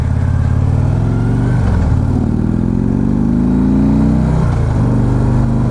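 A Harley Ultra touring motorcycle drones steadily while riding, loud and close, its engine and air box giving a choked, restricted tone, with the pitch dipping and climbing again at two gear changes.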